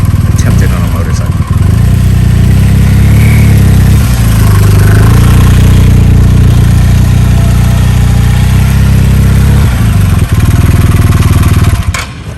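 A motorcycle engine runs loud and close, rumbling steadily with uneven revs throughout, with people talking over it.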